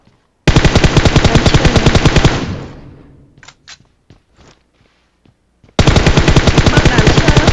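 Loud, fast automatic gunfire in a video game, a continuous rattling burst that dies away, followed by scattered single shots and clicks, then another sustained volley.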